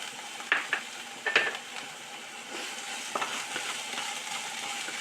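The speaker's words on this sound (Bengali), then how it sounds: "একটু ফ্রাই করবো, কাঁচা গন্ধ চলে যাওয়া পর্যন্ত।" Ginger and green chili paste frying in a pan for a begun sundari eggplant dish: a continuous soft sizzle with a few sharp clinks and scrapes of stirring near the start, and no talking.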